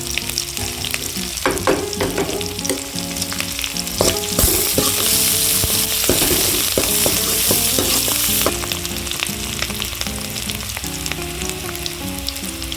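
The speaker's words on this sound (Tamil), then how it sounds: "வெங்காயம் இந்தளவுக்கு வதங்கிருச்சு" Onions with curry leaves sautéing in oil for drumstick leaf sambar, a continuous sizzle and stirring scrapes that swell into a louder hiss midway, with background music playing throughout.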